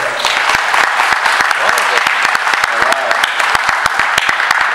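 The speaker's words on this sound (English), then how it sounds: "let's give the place a round of applause for bringing us here, ladies and gentlemen" Sustained applause from a crowd, dense steady clapping that stays loud and even throughout.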